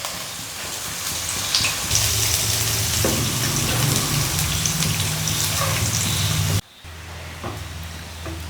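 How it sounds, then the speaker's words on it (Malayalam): Crushed garlic, a whole bulb, sizzles and crackles loudly in a generous amount of hot oil for a mushroom roast, a dense steady spatter that drops abruptly in level near the end and then continues more softly. "എണ്ണ ചൂടായി കഴിഞ്ഞ് ഒരു ബൾബ് വെളുത്തുള്ളി നല്ലോണം ചതച്ചിടുക"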